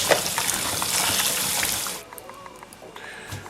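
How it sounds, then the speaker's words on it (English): Water from a kitchen tap gushes loudly onto sliced yam for about two seconds, a bright rushing splash that then cuts off, leaving faint drips and small clinks in a quiet room. "I'll run some water and then we'll rinse."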